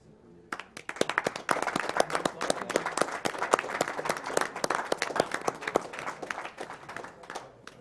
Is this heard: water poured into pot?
no